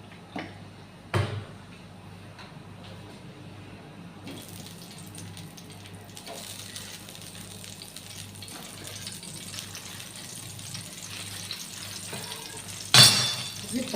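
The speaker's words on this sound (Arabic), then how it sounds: "بصوا بقى نبدا نحمر" Food frying in oil with a low, steady sizzle that swells slightly partway through, broken by a couple of sharp clatters near the start and toward the end.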